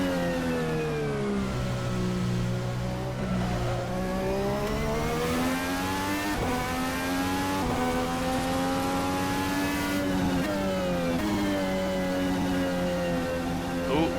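A very loud race car engine in a racing sim game drones and revs continuously, pitch sliding down under braking and climbing back up through gear changes, with no voices over it.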